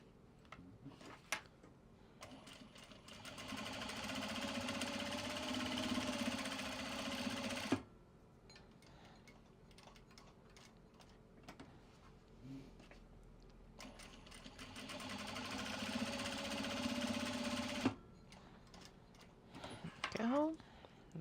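A sewing machine stitches a Japanese fabric bag in two long runs of steady motor whirr, each about seven to ten seconds, separated by quieter handling sounds and clicks, close and clear.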